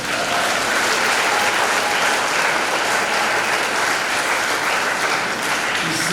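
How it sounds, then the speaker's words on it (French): A church congregation applauding at a Saint Michael Archangel feast-day service, dense sustained clapping from many hands filling the whole stretch at steady loudness. "Nous applaudissons, nous disons merci."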